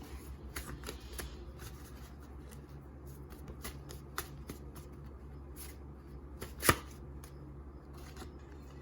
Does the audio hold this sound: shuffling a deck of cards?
yes